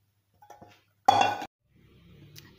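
Chana chaat served from a pot into a dish, a short burst of clinking metal utensils against cookware with quiet clatter before and after.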